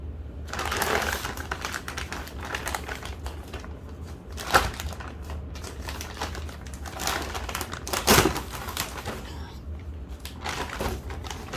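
Cardboard packaging for a Logitech MX Vertical wireless mouse being handled and opened, giving close crinkling, scraping and tapping with a few sharper snaps, steady and fairly loud with no talking.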